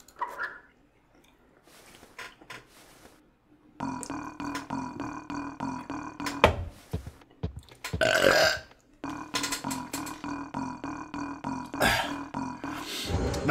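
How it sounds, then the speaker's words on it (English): Loud, drawn-out burps come from the video game Endacopia, several long, rough, growling bursts with gaps between them, close and prominent with no talk over them. "That felt like a direct response to me burping."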